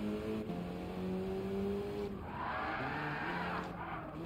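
Mercedes-AMG car spinning out while drifting in Gran Turismo 7, an engine revving at steady pitch then breaking into a rising whine and tire squeal as it slides, with no talk.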